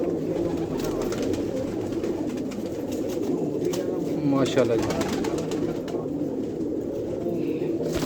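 Pigeons coo steadily in a low rolling murmur, with someone briefly speaking over the soft continuous cooing.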